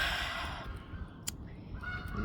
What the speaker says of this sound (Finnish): Hirveä kotkotus.